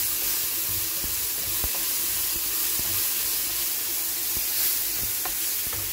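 Ground spice paste sizzles in hot oil in a home kitchen, a steady close frying hiss broken by scattered small pops and ticks.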